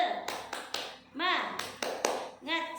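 A class of schoolchildren performs the rhythmic tepuk semangat clap, sharp handclaps landing in a quick patterned sequence with children's voices chanting between the beats.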